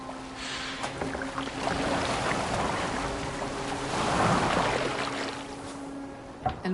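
A boat gliding across water in Assassin's Creed Valhalla, with a continuous wash of waves and hull splashing under a low steady drone, swelling briefly midway.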